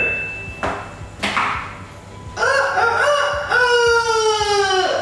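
A rooster crows loudly nearby in two long, drawn-out calls, preceded by a couple of sharp metallic knocks.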